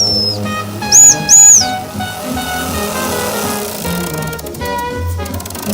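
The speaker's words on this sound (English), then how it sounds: "you can ring the whistle to relieve pressure." Two short, shrill blasts from a model steam engine's whistle sound close by over a steady mechanical hum and chugging engine noise.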